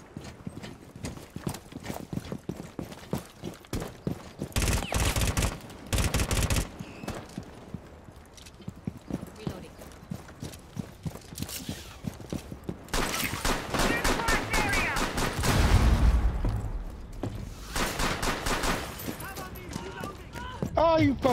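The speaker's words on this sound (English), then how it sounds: "who's shooting with the Mac 11? I just heard that" Rapid Mac 11 gunfire in Rainbow Six Siege, with repeated fast bursts of shots among other game noise, while a player talks over it.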